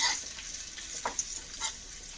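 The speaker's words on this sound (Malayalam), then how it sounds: "ഒന്ന് ഇളക്കി കൊടുത്ത് നമുക്ക് കറിയിലേക്ക് ചേർക്കാം." A hot tempering of dried chilies and fenugreek crackles and sizzles as it is stirred, steady frying hiss with a few brief scraping strokes, close and alone, destined for a thick mango curry.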